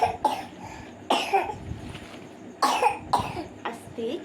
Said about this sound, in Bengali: আস্তে কি কাশি হয়েছে